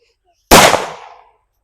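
A single sharp bang from a Valangaiman country firecracker, loud and close, with a brief crackling tail that fades within a second; quiet before it.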